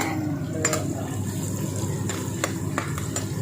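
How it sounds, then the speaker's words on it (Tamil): Onions are sautéed in a pan until they turn reddish. A steady sizzling hiss runs throughout, broken by a few faint scrapes and clinks of stirring. "வதக்கு வதக்கு நல்லா வதக்கு. வெங்காயம் சிவந்து வரணும்"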